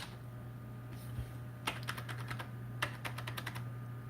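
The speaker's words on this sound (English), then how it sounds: "I'm gonna go ahead and type some stuff." Fingers type on a computer keyboard while chatting in the game Lords Mobile, two quick runs of light clicking keystrokes over a low steady hum, faint and close.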